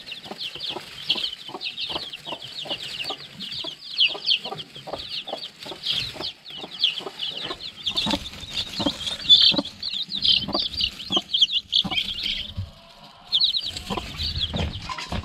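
Constant high-pitched peeping from many baby chicks, rapid overlapping cheeps with some soft rustling and a few louder bursts.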